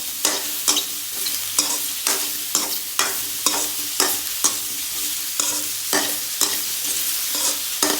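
Oil sizzles steadily in a pan for mushroom pulao while a spoon scrapes and stirs in a brisk, regular rhythm, close and loud, with no talking.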